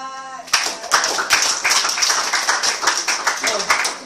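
An audience at a business testimonial talk claps loudly after a brief pause, with dense, uneven clapping from many hands that pulses and carries on with slight swells.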